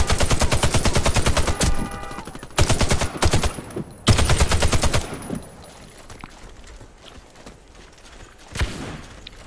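Video game gunfire: rapid bursts of automatic shots in several rattling volleys, loud and close, separated by short pauses and tapering into quieter background game noise, with no speech.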